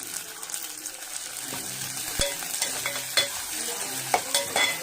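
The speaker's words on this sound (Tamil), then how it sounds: "போட்டுட்டு நல்லா வதக்கிக்கோங்க" Onion, curry leaves and dried red chili sauté in a pan under a soft, steady sizzle, with close scrapes and clinks of a spoon stirring at irregular moments and no talking.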